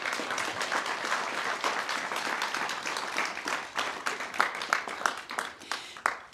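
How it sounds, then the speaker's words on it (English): A wedding crowd applauds steadily for the newlyweds, dense clapping holding at moderate volume before thinning toward the end. "Can we have a round of applause for this stunning couple?"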